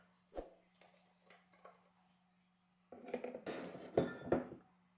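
Maple syrup and black pepper being stirred together in a bowl: a few light spoon clinks against the dish, then a louder burst of rapid scraping and clattering near the end, with no voices.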